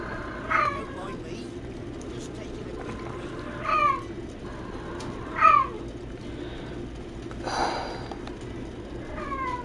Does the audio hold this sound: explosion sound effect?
no